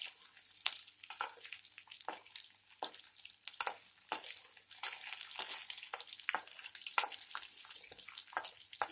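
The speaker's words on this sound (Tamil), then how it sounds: "ஆனியன் வதங்கிட்டு இருக்கு, நல்லா வதங்கட்டும்." Onions sautéing in a pan for carrot chutney, a soft close sizzle broken by frequent scraping strokes of a spoon stirring, rhythmic and moderately quiet throughout.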